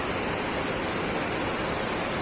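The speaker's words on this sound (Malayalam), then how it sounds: "നല്ലൊരു വെള്ളച്ചാട്ടമാണ് കേട്ടോ" A rain-swollen waterfall at Mamam near Attingal roars in a continuous, loud and close wash of rushing water, heard alone with no voices.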